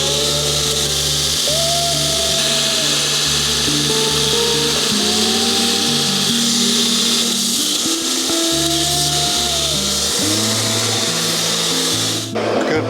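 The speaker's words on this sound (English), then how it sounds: "Let's grind those off right now." An angle grinder grinds the lugs off a freshly forged 7 lb axe head, running loud and steady the whole time with a harsh, continuous whine. Pitch shifts and rubbing scrapes come as the disc bites the steel.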